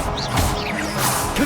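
The Expelliarmus disarming spell is cast in the Hogwarts Legacy video game, a quick magical whoosh with a sharp crashing hit, all within a moment of continuous game sound.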